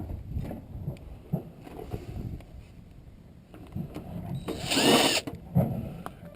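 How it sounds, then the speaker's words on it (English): Power drill backing screws out of a metal radiator box, heard as short bursts of motor whine and rattling bits, with one louder, sustained buzzing run near the end and no talking. "Gotta take those screws out."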